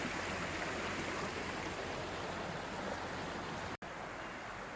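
A pretty stretch of river flowing past a spot where a long footbridge is being built, a steady broadband rush of water heard close and continuous, cutting off briefly near the end with no talk.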